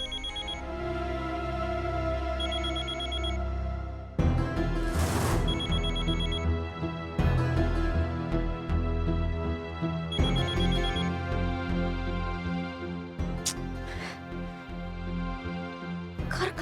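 A telephone rings on and on without being answered, its repeated electronic ring pattern heard over background music in a television drama scene.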